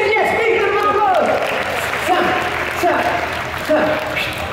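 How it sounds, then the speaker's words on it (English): Open-air street show audience at a buskers festival on Sentosa applauding steadily, with a performer's voice and crowd chatter mixed in over the clapping. "big round of applause!"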